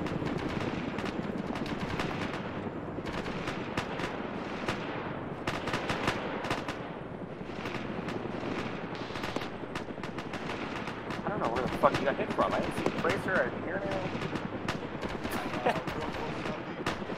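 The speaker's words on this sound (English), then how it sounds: "gunshot southeast." Gunfire rattles through a military shooter game set in ArmA 3, with bursts and single shots crackling at varying distances over a dense, continuous battle din, while players talk over it.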